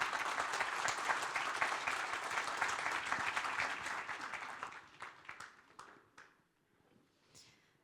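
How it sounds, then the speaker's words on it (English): An audience at a cybersecurity conference panel applauds steadily for several seconds, then the clapping thins to a few scattered claps and fades out. "A warm round of applause for our esteemed panelists."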